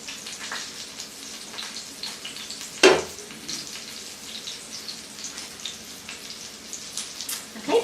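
Nut-crusted chicken frying in a skillet on a home stove, a soft steady sizzle with one sharp clatter partway through.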